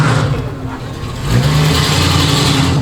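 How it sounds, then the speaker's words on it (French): Car engine revving hard during an attempted burnout at an early-2025 car event with Mustangs and MX-5s, a loud steady mechanical roar that rises in pitch midway and holds, close to the listener. "C'est moi ou il a essayé de faire un burn?"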